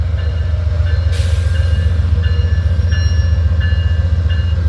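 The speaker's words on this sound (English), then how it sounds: "Amtrak 80 with locomotive 81." Amtrak train with locomotive 81 pulling into Petersburg station northbound: a loud, steady low rumble of engine and rolling cars, with faint periodic wheel clicks over the rails and no voices.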